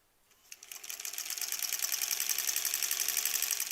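A sewing machine chain-pieces pinwheel quilt blocks, spinning up from quiet into a fast, steady, close mechanical whir that holds without pause.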